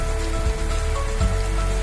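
Heavy rain pours down continuously in Gangapur, Chhatrapati Sambhajinagar, India, a dense close hiss of drops hitting a surface with no letup.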